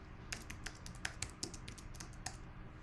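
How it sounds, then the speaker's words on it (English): Fingers type on a computer keyboard at close range, a quick irregular run of about a dozen light clicks over two seconds, faint and with no talking. "Now we're going to go ahead and type Garden News"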